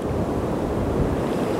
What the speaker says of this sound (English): See the tide's coming in so fast.